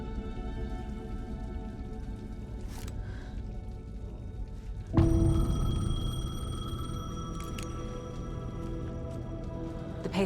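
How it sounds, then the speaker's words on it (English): A payphone starts ringing abruptly partway through, a bright electronic tone over a quiet, dripping ambient background, from Alan Wake II gameplay. "The payphone was ringing."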